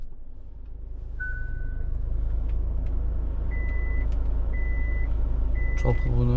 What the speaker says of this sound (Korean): 시동을 켰습니다